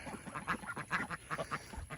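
Adult ducks and ducklings quack in a steady, rapid chatter of overlapping calls, close and moderately loud, with no talking.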